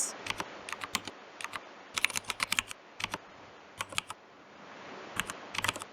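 Keys on a computer keyboard clatter in quick irregular bursts as Python code for a banking program is typed, with short pauses between runs of keystrokes, close and fairly quiet.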